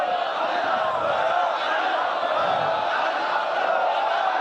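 Dense, steady roar of a large crowd of devotees gathered at a shrine at Aastana Aaliya Neryan Shareef, a continuous wash of many voices chanting and calling, loud and close throughout.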